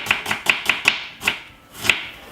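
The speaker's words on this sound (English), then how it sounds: "I'm just cutting up my red onion." Half a red onion is chopped on a board for a tortelloni salad with spinach: seven crisp knife chops in an uneven rhythm, close and clear, with no talking.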